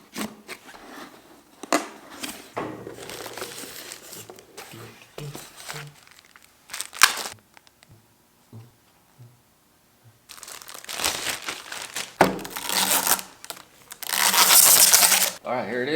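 Keyboard packaging gets opened, with bursts of crinkling plastic and rustling, scraping cardboard that come in uneven spurts between short quiet pauses, loud and close.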